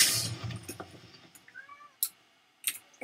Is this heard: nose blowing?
no